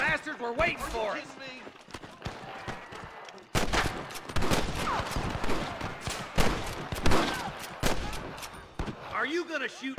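Repeated gunfire erupts in a Red Dead Redemption shootout with cattle rustlers, sharp shots and rapid volleys cracking in irregular bursts, with voices talking over the fighting.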